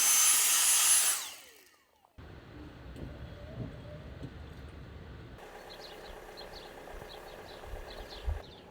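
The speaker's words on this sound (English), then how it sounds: "she's having a quick hoover while I'm out the van" A vacuum cleaner runs inside a 4x4 camper van in Andalusia, heard muffled from outside as a steady humming drone after a brief loud burst at the start.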